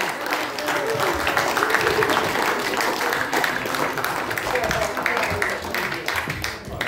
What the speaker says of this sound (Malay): sekali lagi tepukan yang gemuruh kepada Ambassador Datuk Kasmaliza